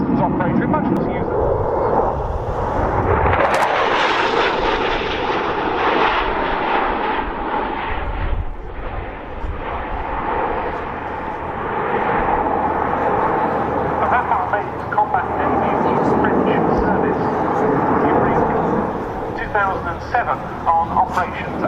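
A two-seat Dassault Rafale B jet flying past at the RAF Cosford air show, a broad roaring engine rush that swells and fades, with a commentator's voice over the top.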